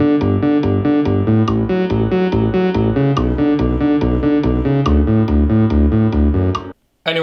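A loud, distorted synthesizer in GarageBand plays a steady repeating pattern of chords and bass notes, then cuts off abruptly near the end.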